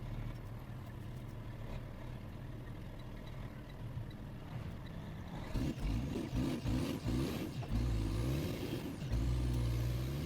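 Farm truck on a grain elevator run, a steady engine rumble from inside the cab that grows louder and rougher partway through as it accelerates and shifts, with rising revs toward the end.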